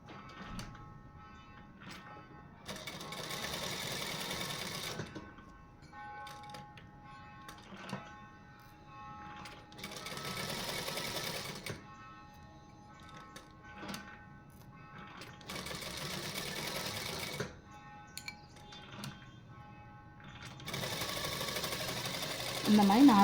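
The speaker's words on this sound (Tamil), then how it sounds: "ராங் சைடு வச்சு சும்மா அப்படியே ஸ்டிச் பண்ணி விடுங்க" A sewing machine stitches two fabric pieces together wrong sides facing. Its rapid whirring comes in several bursts separated by pauses, close and moderately loud. Someone speaks in between.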